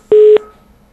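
Telephone dialing tones during a radio call-in broadcast: a single loud, steady electronic tone held for about a quarter second, then a faint trailing hum, with no talk.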